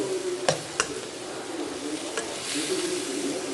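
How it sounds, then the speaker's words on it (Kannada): Broccoli is stir-fried in a pan over a low gas flame, making a soft steady sizzle with a few sharp clicks of a utensil against the pan, close and fairly quiet, with no talk. "ಬರೀ ಇಷ್ಟೇ ಸಾಮಗ್ರಿ ಹಾಕ್ಕೊಂಡು ಚೆನ್ನಾಗಿ ಹುರ್ಕೊಳ್ಬೇಕು."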